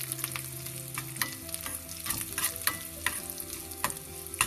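Curry leaves sauté in hot oil, crackling and spitting in irregular bursts over a steady sizzle, with a faint tonal hum in the background and no voices.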